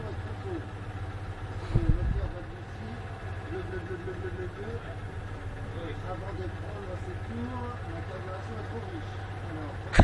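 Citroën 2CV engine runs at a steady idle, a low continuous throb with a brief louder burst early on, with faint voices in the background.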